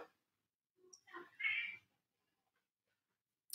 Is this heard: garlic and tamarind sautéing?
no